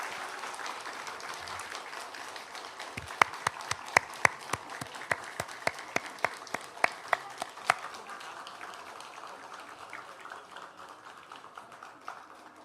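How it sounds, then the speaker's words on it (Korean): A church congregation applauding children after their performance at a Sunday service, with a sustained burst of clapping across the room and a few louder individual claps standing out before it fades. "마지막으로 우리 인사드릴 때 큰 박수와 응원 부탁드립니다."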